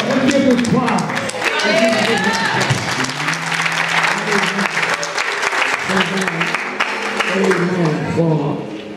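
A congregation at a church's 66th anniversary service breaks into sustained applause, a loud, steady wash of many clapping hands mixed with cheering and voices that carries on without a break.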